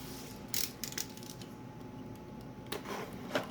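Cardboard box of Creality CR-10 3D printer parts being opened, with a few short rustling and clicking handling noises over a quiet background hum, no talking.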